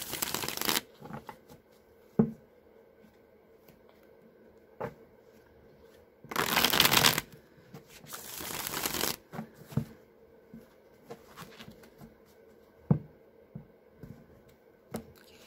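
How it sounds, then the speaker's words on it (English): A deck of tarot cards is shuffled close up in quick, crisp riffling bursts separated by quiet pauses, with a few soft taps and slides of cards between shuffles. "I'm now going to do three of the Deviant tarot. I'm first going to give them a few shuffles."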